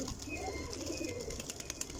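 Soft, low pigeon coos repeat in a quiet outdoor setting, with faint rustling and light wing sounds.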